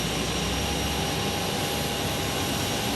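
Delta Airlines Airbus A321neo jet near Phoenix Sky Harbor Airport, a steady broadband roar of jet engines with no clear rise or fall over a few seconds and no talking.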